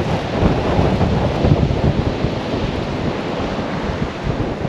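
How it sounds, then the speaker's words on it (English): Sea waves break and roll continuously onto a beach at Tunstall on England's east coast, a loud, steady surf roar with heavy wind buffeting the microphone. "The waves are down a tad now."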